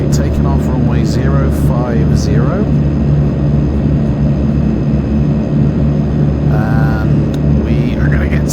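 A simulated airliner sits on a flight simulator's runway at takeoff, its steady engine rumble and broad wind-like roar holding loud and constant throughout, with someone talking over it in bursts.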